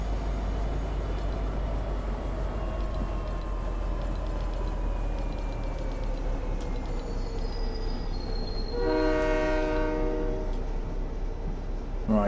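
A train in the video game Fortnite rolls along with a steady rumble and shifting metallic whines, then sounds a loud layered horn blast toward the end.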